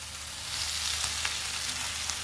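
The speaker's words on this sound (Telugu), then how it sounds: "గోంగూరను కూడా 1 నిమిషం ఫ్రై చేసుకోవాలి." Gongura leaves frying in a pan, a steady close sizzle and crackle that swells after the first half second and carries on evenly with small pops, no voices.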